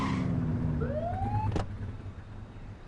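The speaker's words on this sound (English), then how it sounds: "Get on their tail and flip the siren." A short police car siren whoop in a video game sweeps upward in pitch over a steady engine drone, followed by a sharp click.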